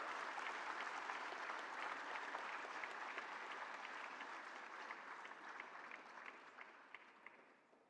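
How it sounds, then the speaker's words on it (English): Audience applause after the first-place winner of a startup contest is announced at an India Startup Fest event in Karnataka; dense, steady clapping from a large crowd fills the clip and slowly tapers off toward the end. "A big round of applause."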